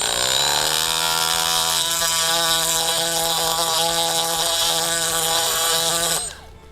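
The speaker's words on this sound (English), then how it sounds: "now you can come in here and grind the back side of that rail" An angle grinder with a grinding pad works the back side of a rail, giving a loud, steady metallic whine that holds for several seconds and then winds down at the end.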